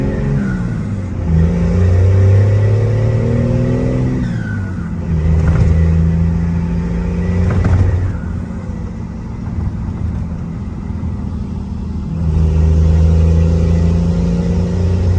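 A second-generation truck engine idles in neutral, a steady loud low rumble that swells a few times with light revving, close by and with no talk over it.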